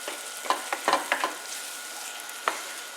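Curry (saalan) being stirred and mixed in a pan: a few sharp scraping strokes cluster early, then a long quiet gap before two more scrapes, all over a faint low sizzle.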